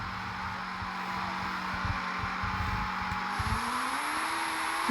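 A race car's engine in an endurance racing video game set at Qatar drones steadily as it leaves the pit lane, then rises in pitch as it speeds away, over a constant background hiss.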